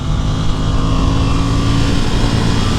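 A 2022 Ducati NightShift motorcycle engine drops down into third gear on the road, its loud, steady engine drone close to the rider and running continuously with no pauses.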